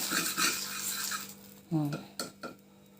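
Egg noodles being tossed and mixed in a pan, with a few clinks and scrapes of a utensil on metal, fairly quiet, with a brief voice in between.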